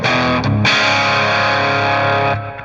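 Guitar through an amp simulator pedal with gain set at half, a loud driven chord ringing close and sustained for about two seconds after a quick restrike, then fading, no voices.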